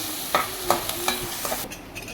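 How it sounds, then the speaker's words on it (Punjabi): Crushed garlic, ginger and green chili fry in a pan with a soft steady sizzle, broken by rhythmic scraping stirs about every third of a second before the sound thins out. "ਇੱਕ ਚਮਚ ਆਪਾਂ ਪਾਵਾਂਗੇ ਲਸਣ ਅਦਰਕ ਤੇ ਹਰੀ ਮਿਰਚ ਕੁੱਟਿਆ ਇਹਨੂੰ ਹੁਣ ਆਪਾਂ ਭੁੰਨ ਲੈਣਾ ਹੈ"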